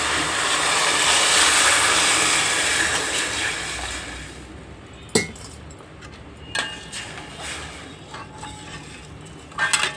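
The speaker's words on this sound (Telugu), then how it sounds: "ఇప్పుడు ఉడికిద్దామండి వాటర్ వేసుకొని." Water rushes into a hot pan of fried moong dal lentils for rice rava upma, a loud hissing pour for several seconds, followed by faint clinks and light bubbling.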